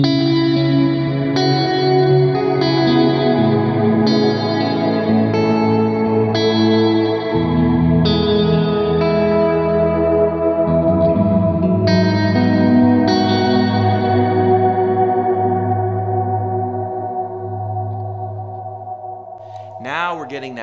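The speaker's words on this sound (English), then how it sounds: "hit reverb, and now I can have these two reverbs together" A sustained, shimmering guitar chord washed in long reverb from two stacked reverb effects, swelling and decaying into a spacious wash with a brief sharp accent near the end.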